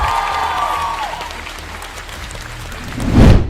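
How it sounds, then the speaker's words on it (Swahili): Applause from a church congregation clapping for Jesus, dense and steady at first, easing slightly in the middle, then surging louder near the end. "Clap your hand for Jesus."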